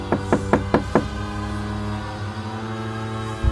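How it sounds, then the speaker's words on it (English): Five quick knocks on a door in a steady rhythm, close and distinct, followed by a low sustained tone and one more soft thud near the end; no one speaks. "I heard a knock at the door."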